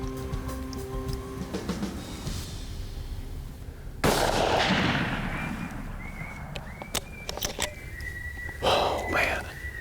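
Rifle shot fired at a coyote during a nighttime hunt, one sudden sharp blast that cuts in mid-clip and then rolls and decays into the dark, with faint outdoor rustling before and after.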